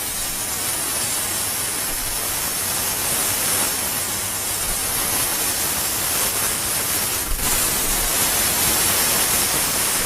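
Compressed air blows steadily through fabric on a spotting board, making a continuous loud rushing hiss for about ten seconds with one brief sharper puff near the end.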